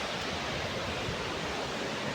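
A rising river rushes past an open riverside ground in a steady, broadband roar that stays close and continuous, with no voices over it.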